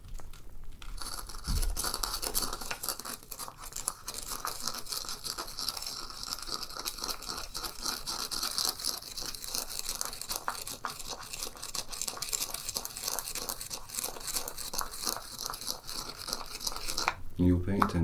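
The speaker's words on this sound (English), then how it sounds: "Take the mortar and pestle" A mortar and pestle grinds ingredients in a rapid run of dry, gritty scraping and crunching strokes that continues close up and at an even level for the whole stretch.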